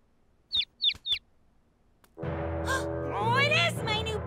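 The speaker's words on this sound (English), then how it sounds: "Oh, it is my new baby bird!" Three short, high chirps from a cartoon baby bird, evenly spaced and clear, followed by a loud burst of animated music and sound effects.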